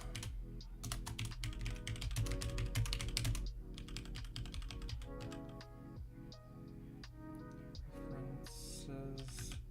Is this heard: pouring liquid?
no